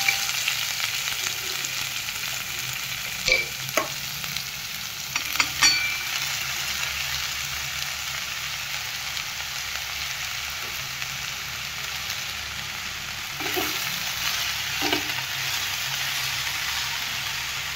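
Spring onion greens sauté with fried chillies in a hot pan, a steady soft sizzle running throughout with a few scraping stirs of a spoon, no talking.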